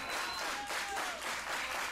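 Crowd at a professional wrestling match applauding steadily, a broad continuous wash of clapping at moderate loudness with no clear voices over it.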